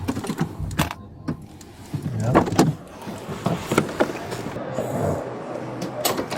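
A car door slams shut with a sharp thud amid several clunks and knocks around a vehicle, close by, with people speaking briefly between the impacts.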